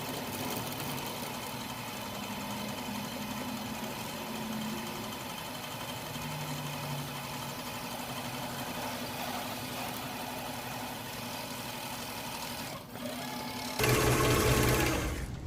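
A Makira reel being filled with 150 lb red tightline fishing line, a steady mechanical whirring hum that runs continuously, with a louder rattling shift near the end.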